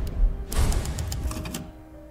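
Typewriter save effect from the Resident Evil video game: a short burst of rapid mechanical key clacks, close and fairly loud, fading out at the end with no talk.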